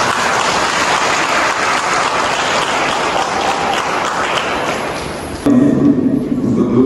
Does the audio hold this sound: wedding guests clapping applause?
yes